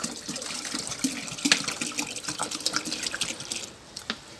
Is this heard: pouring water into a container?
yes